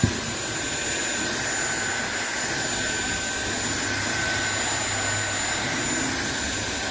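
A SunSare 550W cordless stick vacuum cleaner runs continuously with a steady, even whine and airy suction hiss, close to the microphone and with no talking.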